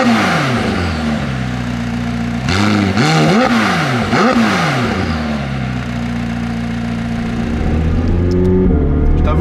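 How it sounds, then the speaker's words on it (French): A McLaren 765LT with a twin-turbo V8 revs up close and loud, the engine note climbing and falling in several quick blips before settling into a steady, throaty idle. "Il est temps de démarrer ce V8 biturbo et d'aller faire un petit tour."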